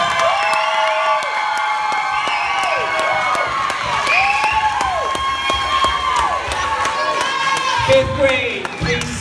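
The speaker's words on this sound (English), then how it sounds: "Round of applause." Children and adults at a fourth grade graduation ceremony burst into loud, sustained cheering, whooping and clapping that fills the whole stretch without a break.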